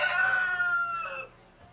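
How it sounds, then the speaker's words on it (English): A rooster crows once, a clear, drawn-out call that fades at the end, heard indoors at a moderate distance with nothing else competing. "And don't mind the rooster."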